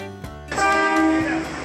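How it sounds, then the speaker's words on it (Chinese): A golden-painted Taiwan Railway art train on the Jiji line pulls into a station, giving a loud, sustained tonal blare or squeal that starts after a brief thump and holds steady for over a second, close by. "金黄色的火车进站，透着日头光，看起来是真醒目。"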